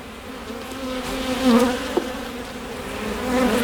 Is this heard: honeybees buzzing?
yes